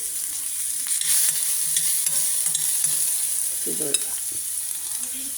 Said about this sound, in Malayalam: ഈ സവാള, മല്ലിയില എല്ലാം കൂടി ഇട്ടൊന്ന് വഴറ്റിയിട്ട് വേണം